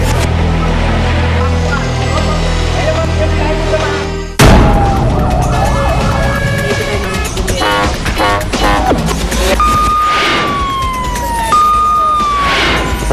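A wailing fire truck siren rises and falls loudly over a busy mix of voices and street noise, its tone sliding between pitches.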